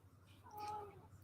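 A male house cat gives a single short, faint meow indoors, a brief call rising and falling in quiet surroundings.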